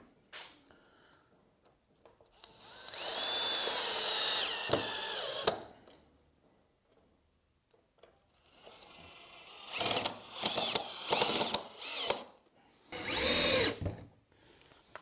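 A power drill with a square-tip bit drives screws into a timber box frame for a planter bench, in several whirring bursts of a few seconds each with quiet pauses between them.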